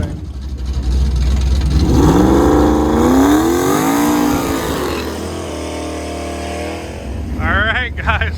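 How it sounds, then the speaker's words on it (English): An old turbocharged Ford Mustang accelerates, its mid-pitched engine note climbing steadily and loudly, then easing off, with a voice speaking briefly at the end. "Old Andy's driving it. He looks right at home in that old Mustang."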